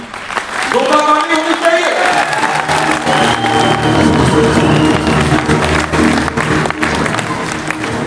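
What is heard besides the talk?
audience applause at Vestige business event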